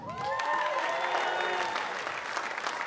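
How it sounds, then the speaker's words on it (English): A comedy club crowd of non-smokers claps loudly, a dense burst of applause with a few whistles and cheers that slowly tapers off. "Clap if you're a non-smoker."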